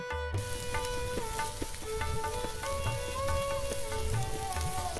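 Panch phoron, bay leaf and dried red chillies sizzle in hot oil for a Bengali niramish labra, a steady, close crackling hiss that fills the whole stretch without a break and with no voices.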